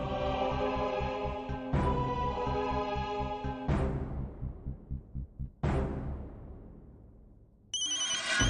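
A phone ringtone rings while a wife calls her husband, a loud, repeating electronic melody in about four bursts, each starting sharply and fading, with a higher chime at the end.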